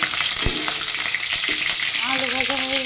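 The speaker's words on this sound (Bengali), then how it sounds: "আলুটা ভেজে উঠে নেব" Potatoes frying in hot oil give a dense, continuous sizzle with occasional stirring clatter, close and steady, while a faint voice speaks briefly near the end.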